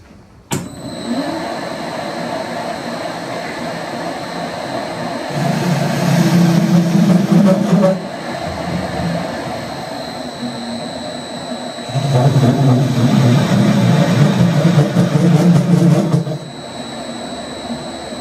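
A powered lathe fitted with a slotter attachment hums steadily with a high whine, then twice swells into louder, rougher vibrating rattles lasting a few seconds each before settling back.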